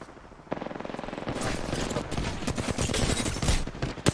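Rapid automatic gunfire rattles through a fight in the Apex Legends video game, dense bursts of shots running almost continuously with sharp louder cracks near the end.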